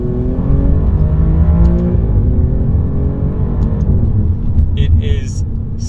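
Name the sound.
Alfa Romeo Giulia Quadrifoglio engine revving in dynamic manual mode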